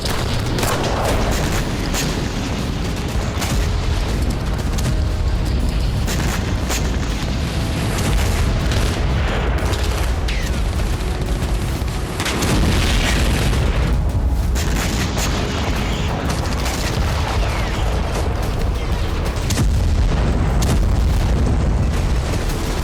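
Continuous loud rumbling blasts and booming impacts from drone and missile attacks on Crimea, dense and chaotic, with bursts of crackling noise throughout and no voices.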